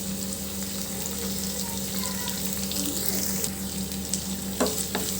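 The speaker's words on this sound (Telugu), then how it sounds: "చూడండి, ఇలా ఫ్రై అవుతుంది." Beetroot frying in a pan, a soft continuous sizzle with faint crackles and a few small pops, close and low in level.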